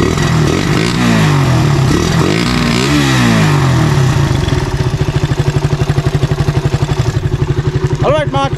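A Raider 150 motorcycle with a rejetted carburetor, revving up and down at first, then settling into a loud, rapid, pulsing idle close by, with someone talking over it.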